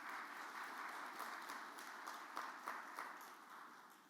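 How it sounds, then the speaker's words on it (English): Faint applause from a small crowd at a professional accountants' seminar in Muscat, scattered claps over a soft hiss, sounding distant and thin. "let's just give them a big round of applause"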